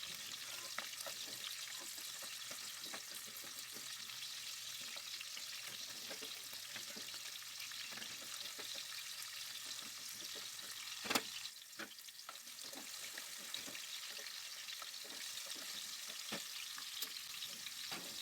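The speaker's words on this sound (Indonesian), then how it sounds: "Kita tumis bahan-bahan ini sampai agak layu dan warnanya berubah agak" Quiet, steady sizzle of spice ingredients being sautéed in a pan for pesmol mackerel, with occasional scrapes and clicks of stirring over the constant frying hiss.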